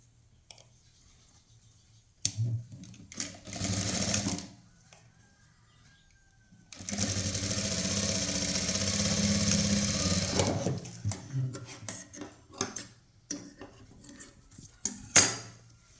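A sewing machine stitching a blouse runs in two close, loud bursts, a short one and a longer steady run of several seconds, with clicks and small handling knocks between them.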